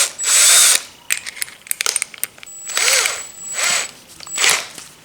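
Handheld power drill spinning in several short bursts and whirs, with quick ratcheting clicks of the chuck being tightened in between, close and fairly loud.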